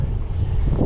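Wind buffeting a microphone on a gravel bike ridden into a light headwind in the Jura, a steady low rumbling gust noise throughout, close and fairly loud, with no talk.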